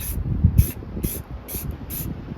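Spray paint hissing onto a plate on a Craftsman 30-inch rear engine rider mower, five short, close bursts spaced about half a second apart, with no talking.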